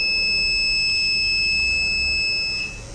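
A steady, piercing electronic buzzer tone from a power theft detection alarm sounds continuously and loudly, then cuts off near the end, leaving a low background hum.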